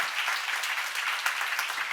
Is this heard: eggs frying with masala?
no